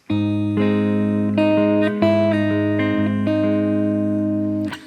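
Fingerpicked acoustic guitar notes ring out one after another, building into a sustained chord, played alone, close and clear.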